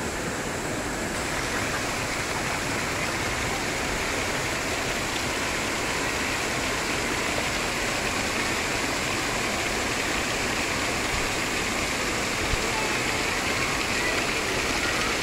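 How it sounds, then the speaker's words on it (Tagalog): The Ma Dai Stream waterfall in Hong Kong roars as a loud, continuous broadband rush of falling water, steady and unbroken throughout, with no voices. "At may nakita po akong waterfalls dito na ang taas."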